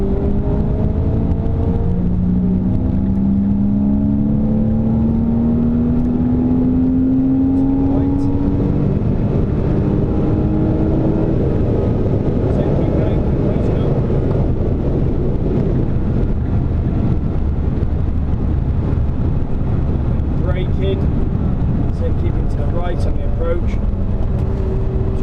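A race car accelerating around the Silverstone circuit, its engine note rising steadily as it powers out of a corner, loud and close with heavy wind buffeting and a voice talking over it.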